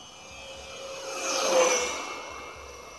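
An electric RC F18 model jet with elevons flies past, its thin whine swelling to a peak as it passes nearby, then fading away again.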